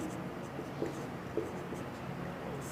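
Faint, soft scratching strokes while numbers are written during a class 6 maths lesson on place value, with a steady low background hiss.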